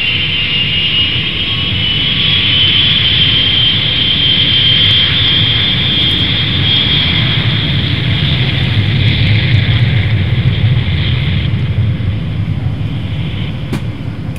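Jet airliner engines during takeoff, a loud, continuous roar with a bright whine, steady throughout with no talk.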